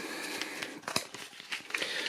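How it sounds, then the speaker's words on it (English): Cards from the Forest Shuffle Dartmoor board game deck being shuffled up by hand, a run of soft riffling and slapping bursts, close and fairly quiet, with no talk. "then you shuffle up the deck"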